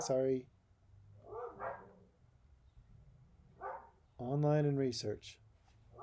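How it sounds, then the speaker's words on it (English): Dogs bark in short, loud bursts of several yaps, spaced irregularly, while a person talks between and over them. "My dogs are barking."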